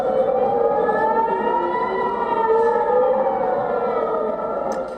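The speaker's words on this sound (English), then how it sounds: "air raid sirens blared" Air raid sirens in Israel during an Iranian missile attack wail continuously, several overlapping tones rising and falling together, loud and sustained throughout with no voices.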